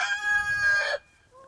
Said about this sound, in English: I didn't need you to crow over and over again.